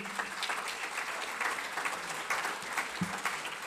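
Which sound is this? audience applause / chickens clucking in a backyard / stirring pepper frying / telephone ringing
audience applause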